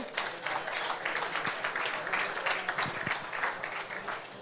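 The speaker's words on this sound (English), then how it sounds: "Let's have a round of applause for them" Banquet audience applauding the events directors at the Hobey Baker Memorial Award dinner, a continuous, moderately distant patter of many hands clapping in a hall, steady in level with no voices standing out.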